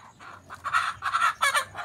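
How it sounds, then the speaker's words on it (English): A Buff Orpington hen clucks in a quick run of loud, close calls, rising into a few sharp bursts toward the end. "Buff Orpington hen."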